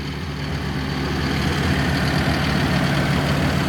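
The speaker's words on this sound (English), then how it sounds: "So this is the V10 gas truck." A 2001 Ford F450 gas truck with a V10 engine and 5-speed idles steadily, a loud, even low rumble close by with no other sounds.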